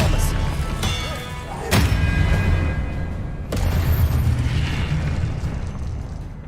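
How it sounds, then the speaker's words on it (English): Expelliarmus spell cast in Hogwarts Legacy, with booming, thudding impacts and sharp cracks bursting over a dense, loud combat din. "Expelliarmus"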